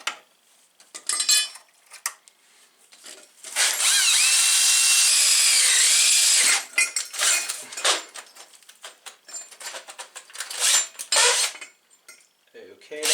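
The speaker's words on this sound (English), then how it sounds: "Maybe I should drill a new hole here, because that is quite far away." A power drill bores a hole in a brake part on a pit bike. A loud, sustained whining run of about three seconds sits between scattered clanks and tool handling noises close by.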